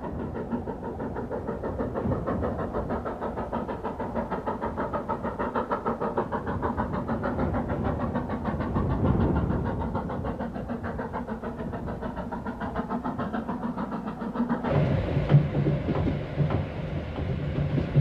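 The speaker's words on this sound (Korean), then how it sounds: "열차가 다시 터널을 빠져나왔다." Steady rumbling interior of a coal-fired passenger train climbing through mountain tunnels in the Tian Shan range, with rhythmic rail clatter throughout, a brief louder swell midway, and the tone shifting brighter near the end as it leaves a tunnel.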